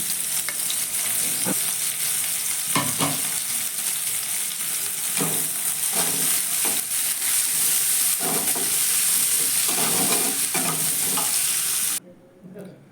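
Onion frying in hot oil in a wok gives a loud, continuous sizzle for about twelve seconds, broken by a few sharp stirring scrapes, then cuts off abruptly near the end.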